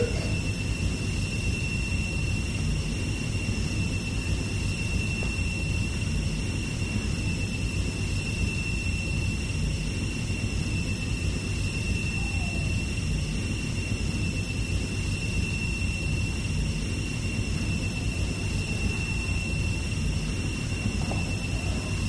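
Steady airplane engine noise, a loud, unbroken drone with a faint high whine running through it, constant from start to finish with no talking.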